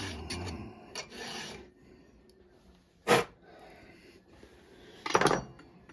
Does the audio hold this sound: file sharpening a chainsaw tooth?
yes